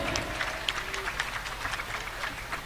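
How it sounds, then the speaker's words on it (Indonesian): A hall audience applauds the finalists at a school debate competition, dense continuous clapping close by, with a faint voice briefly underneath at the start. "Tepuk tangan sekali lagi buat para finalis."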